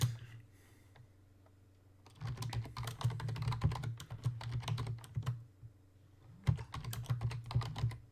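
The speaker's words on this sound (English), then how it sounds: "Punch those keys harder," Rapid keyboard typing in two bursts separated by a pause, close and fairly loud, with a steady low hum underneath.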